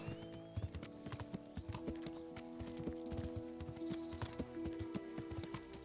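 Horse hooves clip-clop in the video game Kingdom Come: Deliverance, a steady rhythmic trot of close, fairly quiet hoofbeats over a layer of game music and ambience.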